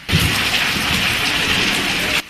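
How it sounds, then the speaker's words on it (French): Heavy downpour during a thunderstorm in Senegal, a steady dense roar of rain filling the whole stretch, loud and continuous with no distinct thunder crack standing out. "Des pluies diluviennes suivies d'orages."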